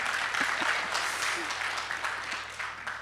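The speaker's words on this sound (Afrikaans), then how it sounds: "Kyk, ons gee vir hulle 'n klap" Church congregation clapping together during an online Afrikaans service, a broad steady wash of applause lasting a few seconds and slowly fading, with faint voices underneath.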